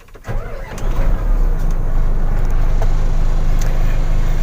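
A truck with an 8DC9 twin-turbo engine cranks and catches, then settles into a steady, loud rumbling idle close by.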